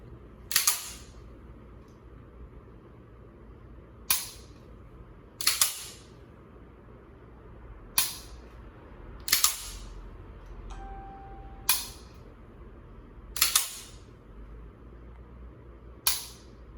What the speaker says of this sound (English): Now what I've just done is what's called dry firing.